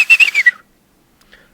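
A whistler of silbo herreño, the Canary Islands whistled language from El Hierro, produces a short, loud gliding whistle that falls in pitch, followed by silence and a faint brief whistle at the end.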